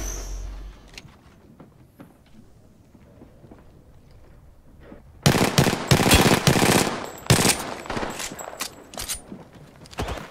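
Apex Legends gunfire opens after about five seconds of quiet footsteps and shuffling. Loud, rapid automatic bursts crack close by, with short gaps between volleys.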